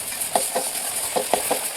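Taro roots are rubbed firmly against a bowl through a plastic cover with a little water, giving about six close, evenly spaced scraping strokes.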